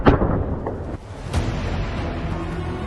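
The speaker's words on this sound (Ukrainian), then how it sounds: "Постріл!" A single heavy weapon shot booms at the start, followed by a second crack and a long rumbling echo fading across open ground.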